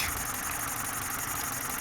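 A car engine with an intake leak and a misfiring fourth cylinder idles close by with a steady, rough hum. The rising and falling revs are not clearly audible.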